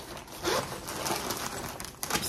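A zipper on the side pocket of a bag bought in an online haul is pulled open or shut, giving a short close rasping burst with a second quick stroke near the end, and no talk over it.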